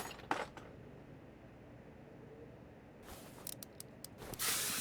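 Penetrant spray hisses onto car parts in Car Mechanic Simulator 2021, a few short, faint bursts near the start, then a run of sharper spray bursts and clicks toward the end, with no talk.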